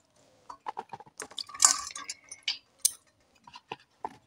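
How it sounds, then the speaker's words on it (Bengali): Pointed gourds are washed in water, making close, light splashes and drips in short irregular bursts with quiet gaps between them, and no talking. "তা প্রথম আমি পটলগুলোকে ধুয়ে নেব।"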